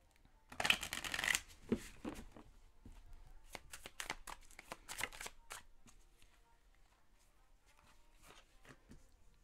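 Tarot cards shuffled by hand during a reading, a burst of crisp riffling and slapping up front followed by softer scattered card handling that fades to quiet, with no talking.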